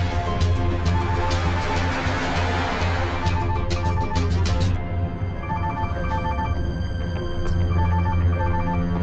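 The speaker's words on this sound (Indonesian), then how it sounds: "Ponselku terus berdering." A mobile phone rings steadily and fairly close, its tone repeating through the whole stretch without talk.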